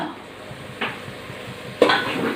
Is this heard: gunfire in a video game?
no